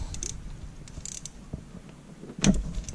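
A ratchet wrench turning on one of three water pump screws on a Volkswagen Polo IV 1.4 TDI engine, giving faint mechanical clicks and a louder ratcheting burst near the end, close up with no talk.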